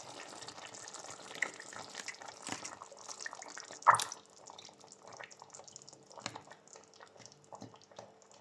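Coconut milk pours into a pot of chicken adobo with carrots and potatoes, a soft running, dripping liquid sound up close with one louder splash midway.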